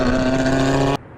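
A friend's Subaru WRX, known for shooting flames, gives a loud, close, steady engine howl that cuts off abruptly after about a second, leaving faint background noise.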